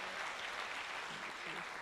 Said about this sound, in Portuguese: Quem pode dar um aplauso bem forte para Jesus mais uma vez?